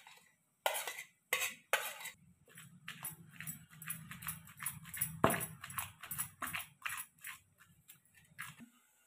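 Roasted green chillies and brinjal pieces being pounded for peanut chutney, a series of sharp, regular thuds close by, with softer scraping and grinding between the strikes.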